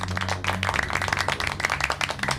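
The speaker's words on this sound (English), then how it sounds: "round of applause to both teams" A small crowd at an NHL playoff preview event claps steadily for a couple of seconds, an even patter of many hands nearby.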